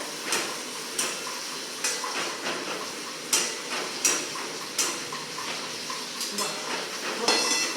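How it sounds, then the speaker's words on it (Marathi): Onion with ginger-garlic paste is sautéed in a pan for palak paneer, with a soft sizzle under repeated close clinks and scrapes of a spoon against the pan at an irregular rhythm. "आणि तीही कांद्यासोबत परतून घेऊया"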